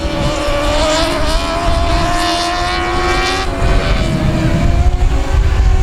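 Dwarf race cars roar around the oval at South Texas Speedway, several loud engines droning and rising in pitch as they pass close by, one steady blended howl without talk.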